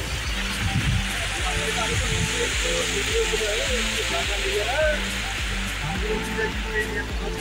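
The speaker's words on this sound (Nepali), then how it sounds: "झरना टाइपको छ यो, माथिबाट झरिरहेको छ।" Steady rushing water pours and splashes without pause, a broad continuous roar from a nearby waterfall in the Ben Nevis area, with faint voices blended underneath.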